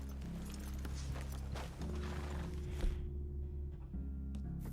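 Horses in Red Dead Redemption 2 come to a halt, their hooves clip-clopping and a brief whinny sounding under low rumbling game ambience, with faint creaks of riders climbing down from the saddle.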